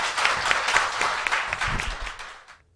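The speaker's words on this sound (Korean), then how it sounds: "박수 부탁드립니다" Studio audience bursting into sustained clapping and cheering at the close of a Korean talk show segment, dense and loud throughout before cutting off abruptly.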